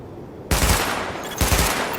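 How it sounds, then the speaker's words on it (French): Automatic gunfire during a weapon test in the video game The Division comes as two loud, close, rapid bursts after a short quiet start, the second following about a second after the first. "Tirez sur les cibles en surbrillance"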